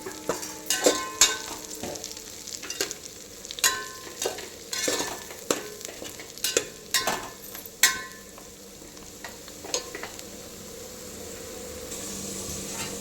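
Mint leaves stirred into onions frying in a pan for potato dum biryani: a soft, continuous sizzle broken by repeated scraping stir strokes, some sharper clicks, fairly quiet and close.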